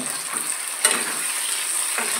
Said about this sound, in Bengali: টমেটোটাও ভাজা হবে তেলের সাথে